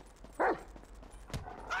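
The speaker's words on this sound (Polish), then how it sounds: "Screw that dog, man!" A dog in the video game Grand Theft Auto V gives a couple of short, sharp barks at moderate distance over faint background noise.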